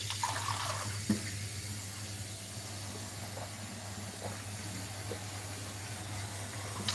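Tap water runs into a drinking glass in a kitchen, a steady continuous stream with a soft hiss and one small clink near the start, close by with no talking.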